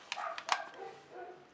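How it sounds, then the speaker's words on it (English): Several dogs barking indoors-adjacent, a few sharp faint yips and barks spaced over a second and a half, somewhat distant and quiet. "Sorry that the dogs are barking like crazy people."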